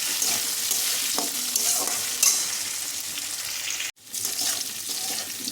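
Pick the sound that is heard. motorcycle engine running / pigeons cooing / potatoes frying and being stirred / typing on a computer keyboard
potatoes frying and being stirred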